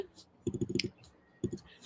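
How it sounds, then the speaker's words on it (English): Quick bursts of clicking keyboard typing on a computer during an online support session, a short run of keystrokes then another brief pair, close and fairly faint, with a little background talk. "So you can hear my typing?"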